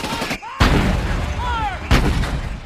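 American artillery strike in a Vietnam War film: two heavy blasts with deep, booming impacts, each followed by a long rumbling tail and faint whistling shells passing between them.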